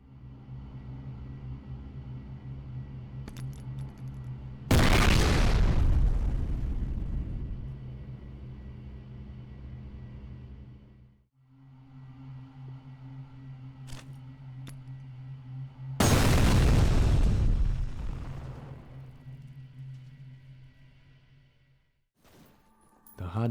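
Two heavy grenade blasts in the first-person shooter F.E.A.R., each a sudden loud boom that rolls off into a long decaying rumble, spaced about ten seconds apart over a low steady ambient hum.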